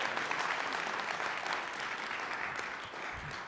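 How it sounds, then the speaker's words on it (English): A room full of people claps steadily, a dense, even wash of applause that holds for several seconds. "Can we give Alyssa a round of applause for all she's done?"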